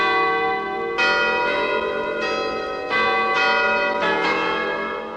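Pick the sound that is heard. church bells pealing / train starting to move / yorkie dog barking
church bells pealing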